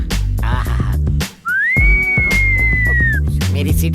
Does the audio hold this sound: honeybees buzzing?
no